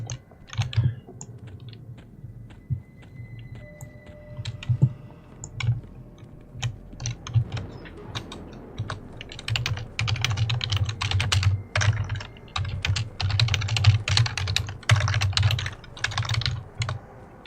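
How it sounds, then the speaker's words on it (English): Computer keyboard typing runs steadily throughout, dense irregular key clicks close to the mic with a few brief pauses, over a low background hum and no voices. "I'm typing like a 2-year-old today"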